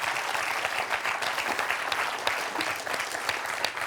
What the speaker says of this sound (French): On applaudit Jacques, toujours dans la course, avec 2 points.